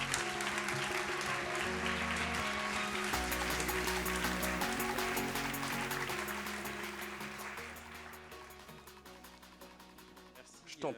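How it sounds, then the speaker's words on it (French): An audience applauds as guests are welcomed on stage at the Hello Women 2023 event, the clapping blended under loud, steady music that fades slightly toward the end. "Sous vos applaudissements nourris"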